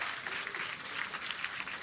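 Distant cheering and clapping from the SpaceX crew at a Starship Flight 5 launch, a steady wash of applause with no break throughout, fairly faint and in the background.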